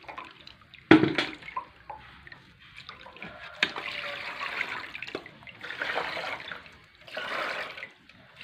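Water is poured into a row of rubber latex trays during sheet making, a run of splashing and trickling bursts with pauses between pours, moderately close and fairly quiet.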